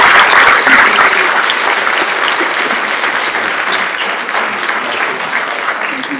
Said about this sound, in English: I want to give these guys a big round of applause.